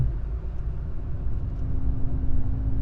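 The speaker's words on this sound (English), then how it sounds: "The exhaust is not loud at all." A car cruising on the highway in sixth gear gives off a subdued exhaust drone blended with low road rumble, steady and even throughout with no voices.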